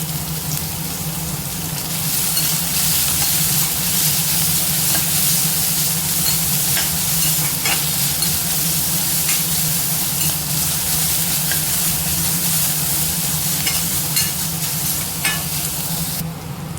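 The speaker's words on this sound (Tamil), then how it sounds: "வெங்காயம் ஓரளவுக்கு வதங்கிடுச்சு" Small chopped onions sizzle in hot oil in a pan, a continuous loud crackling fry with occasional stirring scrapes, close and steady throughout, no talk.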